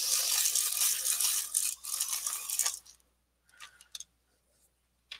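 A dark brown Castle Art coloured pencil is turned in a sharpener, giving close, steady grinding and scraping for about three seconds, followed by a few light clicks and taps.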